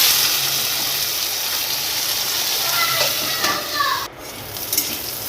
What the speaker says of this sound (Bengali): এবার কড়াইতে তেল গরম করে উচ্ছেগুলো ভেজে নেব।